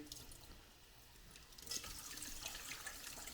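Cold water runs from a tap through sausage casings while they are filled like a hose, a steady close trickle that swells into fuller splashing and gurgling partway through.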